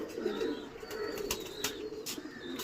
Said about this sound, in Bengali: 2টো পায়রা বসেছে, এই যে 2টো বসেছে এখানটায়